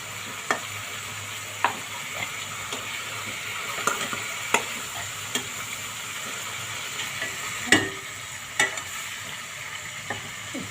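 A koi fish fries in oil in a pan for patori, giving a continuous close sizzle and hiss. Sharp clinks and scrapes of stirring or turning cut through it at irregular intervals.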